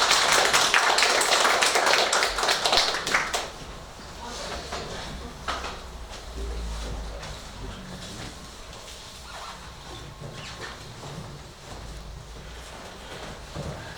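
Audience applause in a municipal meeting in Uberaba, Brazil, welcoming the mayor, agronomist engineer Paulo Piau, in 2018; a loud burst of clapping for the first few seconds that thins into scattered claps and room noise with voices.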